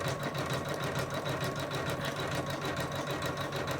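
A Janome embroidery machine stitches out a lace coaster with a fast, even, rapid-fire needle chatter, close and continuous without pause or voices.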